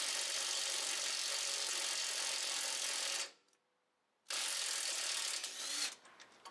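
A ratchet wrench clicks rapidly and steadily up close while working a front wheel bearing on a 2007 Toyota Tacoma 4x4. It stops for about a second, then resumes and trails off into uneven clicks.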